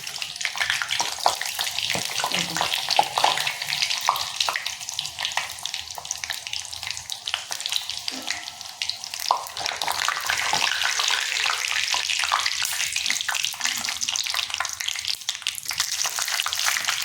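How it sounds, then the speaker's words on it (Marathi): Steady, dense crackling and bubbling of traditional rice-flour and jaggery sajori sweets deep-frying in hot oil, close and continuous throughout, with no talking. "अशा लगेच तळून घेतल्या तरच साजुऱ्यांचं आपलं खरं आहे"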